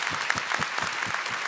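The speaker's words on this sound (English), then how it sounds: "If everyone could give them a round of applause." A short burst of audience applause for panelists at a youth career pathways education event, clear rhythmic claps close by and fairly loud.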